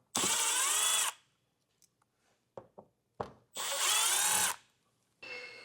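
A power drill removes T15 screws from the front fascia of a 2025 Chevrolet Trax in three loud, close bursts of whining spin, with faint clicks and taps of handling between them.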